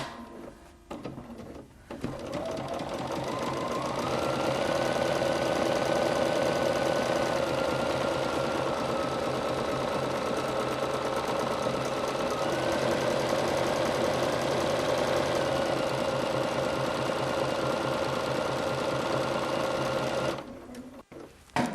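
A sewing machine stitching buttonholes on a vintage-style caftan, a loud, steady, fast mechanical whirring with a shifting pitch. It runs nonstop for about eighteen seconds, then stops abruptly.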